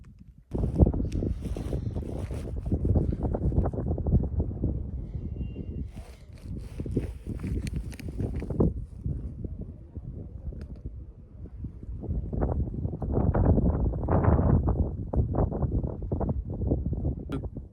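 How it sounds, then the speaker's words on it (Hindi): Strong cold wind at Chirmiri Top near Chakrata in Uttarakhand, a continuous roar and buffeting against the microphone that never lets up, gusting louder toward the end, with no talking. "ठंडी हवा चल रही है बहुत ज़्यादा"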